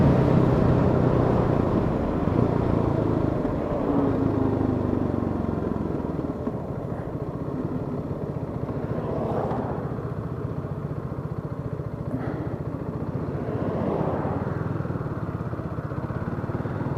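A 2017 Hyosung GD250R motorcycle riding along, its engine droning steadily with wind rush throughout, moderately loud and unbroken, with small rises in revs.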